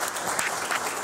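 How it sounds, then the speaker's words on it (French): An audience applauds after a speaker introduces a Moroccan economics professor at an Islamic finance presentation, steady dense clapping filling the whole moment. "applaudissements s'il vous plaît"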